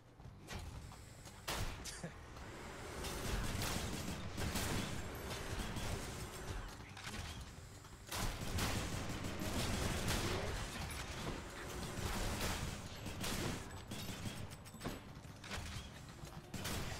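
Rapid gunfire from a weapon in the action game Hades, with repeated bursts of shots, clanks and mechanical clatter running continuously over a busy game soundtrack.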